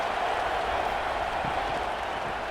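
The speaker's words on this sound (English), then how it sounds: "And the crowd coming to life here, trying to help this defense down in the red zone." A simulated college football stadium crowd roars in a steady, dense wash of cheering and clapping as the defense holds in the red zone, loud and continuous with no distinct voices.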